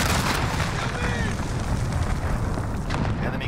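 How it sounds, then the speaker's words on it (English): Missile strike explosion in Call of Duty: Modern Warfare, a loud, sustained booming rumble with dense crackling battle noise that runs unbroken for the whole stretch. "Enemy missile."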